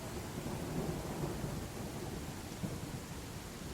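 A thunderstorm in the Land of the Vikings video game gives a steady, low wash of rain with a faint rumble of thunder underneath, continuous and unbroken, with no voices.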